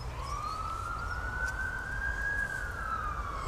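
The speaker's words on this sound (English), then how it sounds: "Here comes the ambulance." An ambulance siren wails in a single long rising and falling sweep as it passes at a moderate distance beside a small river, over a low steady background rumble.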